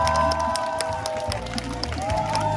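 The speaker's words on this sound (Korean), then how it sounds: "여러분들께서는 계속해서 큰 박수 부탁드리겠습니다" Wedding guests at a Korean wedding hall in Yeosu applaud and cheer as the groom enters, a continuous crowd of clapping under musical tones and a host's amplified voice.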